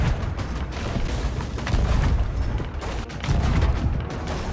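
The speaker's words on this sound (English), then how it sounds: "You were shooting a cannon." Cannon fire in the video game Sea of Thieves, with dense repeated booms and rumbling blasts over a continuous noisy battle background, close and steady for the whole stretch.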